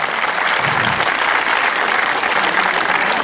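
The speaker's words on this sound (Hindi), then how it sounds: "दाऊ सिंह मरावी जी के लिए भी एक जोरदार ताली बजाएं" Loud, steady applause from a crowd at an Earth Day green-cities event, dense clapping filling the whole stretch without a break.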